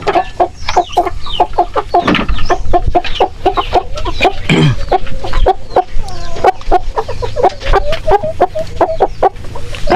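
A young Aseel stag gamecock clucks close by in a rapid, continuous series of short, loud clucks and calls, with other fowl sounds mixed in and no talking.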